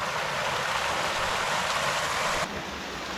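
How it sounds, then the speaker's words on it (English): A waterfall in the Tasmanian bush sends up a dense, steady rushing roar of falling water, close and unbroken, with a slight drop in level near the end. "That's a friggin' waterfall."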